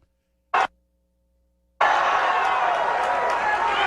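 A large crowd at a Trump rally in New Hampshire roars and cheers loudly and continuously after a brief silence.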